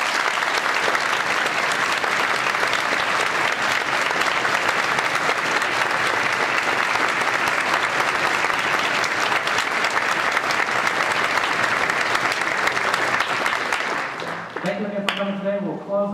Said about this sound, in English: How about a round of applause for all of our guests?